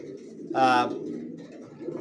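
Racer pigeons keep up a low, continuous cooing nearby while a brief louder, harmonic call or voice-like burst cuts in for about a quarter second before the soft murmur resumes.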